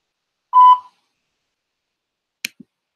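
A single voicemail beep sounds clearly in an otherwise quiet recording, a steady electronic tone lasting about a third of a second, followed a little later by two brief faint clicks.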